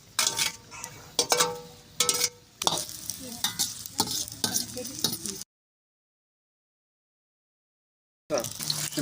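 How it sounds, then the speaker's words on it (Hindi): Onions frying in ghee in a home kitchen while being stirred, a steady close sizzle broken by scraping stirs, cutting out briefly and resuming. "घी में हम प्याज डाल रहे हैं, इनको भूनेंगे"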